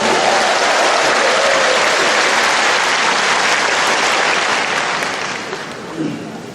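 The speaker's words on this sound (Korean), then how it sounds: "다시 한번 우리 주님한테 진짜 박수 부탁드리겠습니다." An audience at a Catholic Legio Mariae faith gathering claps in steady, dense applause that holds for several seconds and then fades out toward the end.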